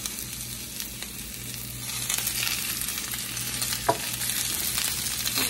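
Potatoes frying in olive oil in a pan give a steady, moderately loud broadband sizzle with a low hum beneath and a brief clatter near the end, no voices.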